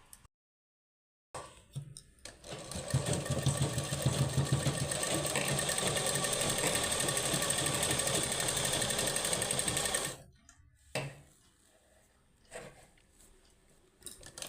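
A sewing machine stitches a seam in warm, thick cloth, running in one continuous close whirring burst for about eight seconds, then stopping, followed by a few short bursts.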